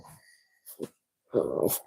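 A young Airedale Terrier makes close, brief snuffling and breathy growl-like sounds in a few short bursts, the last one louder and longer, in a pottery workshop setting.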